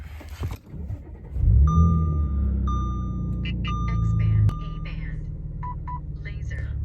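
Low engine rumble from inside a 2015 Audi S5 with a few electronic chimes and beeps over it; the engine swells, then settles to a steady drone.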